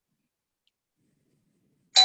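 A doorbell chimes once, abruptly and fairly loud, right at the end after near silence, as if ringing in a home during an online call.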